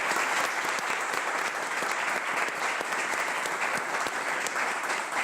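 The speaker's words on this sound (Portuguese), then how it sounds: "tem tanta gente que dá pra gente aplaudir" A live audience at a talk show taping claps in sustained, even applause, a dense crackle of many hands that holds at a steady loudness throughout, with no voices over it.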